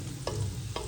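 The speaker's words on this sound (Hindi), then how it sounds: "ये देखिए इसको बस 1 मिनट ही हम ऐसे भूनेंगे क्योंकि प्याज हमारे अच्छे से ब्राउन हो चुके हैं।" Browned onions being fried and stirred in a pan for chana pulao, a steady close sizzle with two brief scraping stirs of the spatula, no voices.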